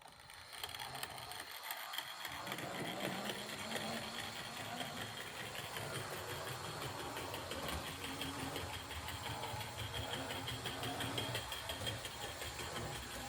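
An HO scale B&O dockside model locomotive pulling three Pennsylvania Railroad passenger cars runs along the track with a steady, fine mechanical whir and rapid ticking rattle, close and continuous without any talking.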